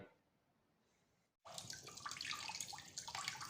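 Ripe orchid fruit rinsed under running tap water for plant tissue culture. After a near-silent opening, a loud, steady splashing stream starts abruptly and runs to the end with no talk.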